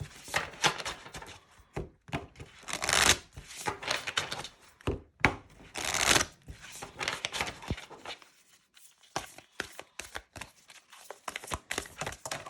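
Rose Oracle cards shuffled by hand in quick, irregular bursts of riffling and slapping, close and fairly quiet, with short pauses between rounds and no talking.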